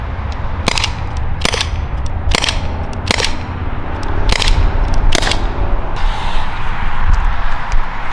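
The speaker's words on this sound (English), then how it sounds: "fire a shot from each of the weapons at 20 feet to see what the impact is" A Byrna compact non-lethal launcher fires at melons from about 20 feet, sounding as seven loud, sharp cracks at irregular intervals, each a sudden snap over a steady background hiss.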